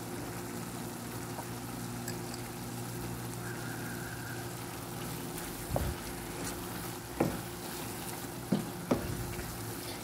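Ground beef cooks in a pan with ají panca powder and salt, giving a steady low sizzle under a faint kitchen hum, broken by a few short clinks or scrapes near the end.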